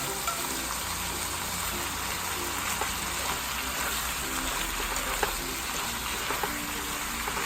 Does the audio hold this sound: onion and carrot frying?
yes